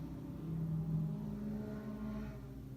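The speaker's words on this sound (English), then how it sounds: "this car was just like obnoxiously loud right now" Loud car passing by outdoors, heard from indoors as a low muffled rumble and whir that swells and then slowly fades, moderately faint and alone without talk.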